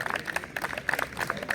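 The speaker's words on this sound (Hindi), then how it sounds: "भरपूर तालियां हमारी भाभी के लिए" Brief applause from a gathered audience at a first anniversary celebration with speeches and souvenir distribution, soft scattered clapping heard at a moderate distance.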